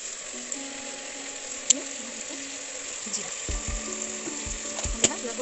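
Cumin and other homemade spice masala sizzle as they hit hot oil in a frying pan, a soft continuous fry punctuated by a few sharp clicks and clattering stirring strokes.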